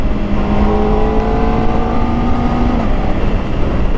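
Kawasaki ZX-4RR motorcycle engine, with the muffler removed, holding a high, sustained rev with a rising whine, loud and close with no talking.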